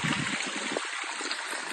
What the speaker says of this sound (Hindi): मट्टी में थोड़ा पानी हम डाल लेंगे।